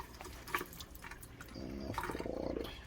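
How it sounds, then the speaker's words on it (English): Water poured off cooking curry chicken in a kitchen, a short splash and gurgling stream building toward the end, close and fairly quiet. "So I'm gonna throw the water off"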